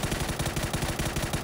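Distant gunfire in the battle royale video game PUBG, a rapid rhythmic burst of shots repeating evenly like automatic fire, muffled and low in level with no talk over it.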